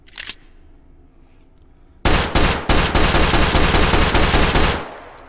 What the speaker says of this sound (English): So there is our pistol.